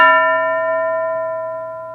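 A school bell rings once in a classroom cartoon, a clear metallic strike with a pure sustained tone that slowly fades over about two seconds, alone with no talk.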